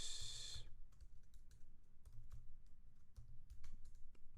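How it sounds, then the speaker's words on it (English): Close-up typing on a computer keyboard, scattered clicking keystrokes in uneven bursts after a brief high hiss at the start, no one talking. "My typing is really bad."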